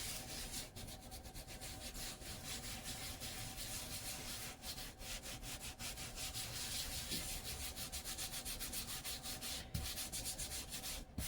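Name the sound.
rolling out pie crust dough for pumpkin pie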